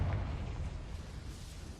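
Confringo blasting spell exploding in Hogwarts Legacy: a deep, rumbling burst whose low boom rolls on steadily without a sharp break, moderately quiet, with no talk.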